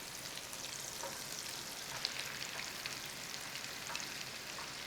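Pork fries in butter in a single pan, a soft, even, continuous sizzle heard at a distance without strong accents.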